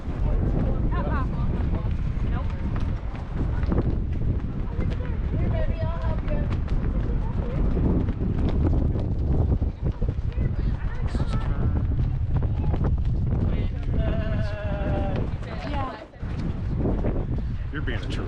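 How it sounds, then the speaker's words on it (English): Strong wind buffets the microphone on a bridge across a gorge, heavy continuous rumbling gusts with people talking over the blustery noise. "Windy coming across the gorge."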